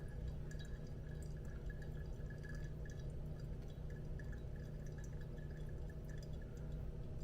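Hot water trickles steadily over ground Ethiopian coffee in a Hario V60 dripper, a faint, continuous pouring and dripping sound close to the microphone.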